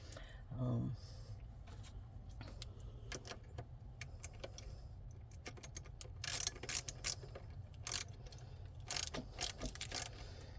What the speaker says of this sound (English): Alright, so I'm going to tighten this down.